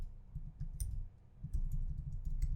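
Rapid typing and clicking on a computer keyboard at an office workstation, a steady patter of light keystrokes with a few sharper clicks, soft and close with no talking.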